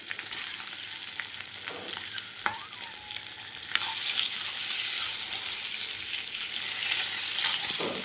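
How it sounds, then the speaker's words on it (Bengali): Eggs coated with turmeric and salt fry in mustard oil, a steady close sizzle and crackle throughout that grows a little louder partway, with a few faint clinks and no talking. "সেই সর্ষের তেলে ডিমটা ভেজে নেব, ডিমগুলো একটু হলুদ আর নুন মাখানো আছে"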